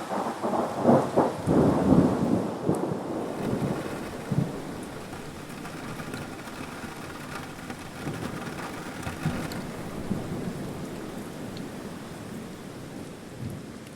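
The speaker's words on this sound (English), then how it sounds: "A thunderstorm rolled in just as we started our morning." A thunderstorm with rain on a morning in American Fork Canyon, Utah: loud rolling thunder rumbles through the first seconds, then settles into a steady, dense wash of rainfall that continues to the end.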